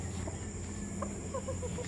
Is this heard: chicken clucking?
yes